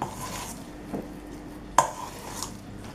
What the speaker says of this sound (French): Donc vous mélangez.